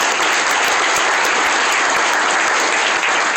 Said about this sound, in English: You can clap for both young ladies.